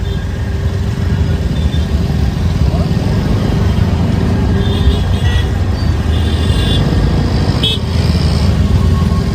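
Busy street traffic in Palanpur, a continuous rumble of engines with several car horns honking in short bursts, some near and some farther off, under occasional voices.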